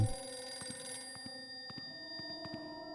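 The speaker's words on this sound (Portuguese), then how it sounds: "a gente recebe uma ligação" A telephone rings loudly in a library in a horror video game: a repeated trilling bell in short bursts with brief gaps, set against a quiet, eerie background hum.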